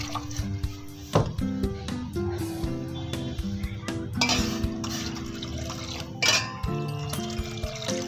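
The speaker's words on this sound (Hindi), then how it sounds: "एक पूरा डिब्बा हम मिल्क पैक वाला 1 पाव वाला हम इसके अंदर डालेंगे" A quarter-litre packet of milk poured into kahwa for khameeri pista-badam chai gives a steady liquid pour and splash that runs the whole time, mixed with background music.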